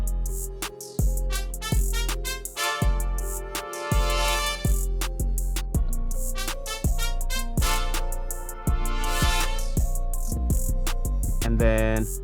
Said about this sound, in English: And then I added this brass from Expand 2, and it sounds like this